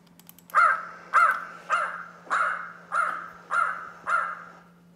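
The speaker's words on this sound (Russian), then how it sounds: "Это ворона." A crow caws seven times in slow, evenly spaced harsh calls, each loud and clear, played back from a computer over a faint steady electrical hum.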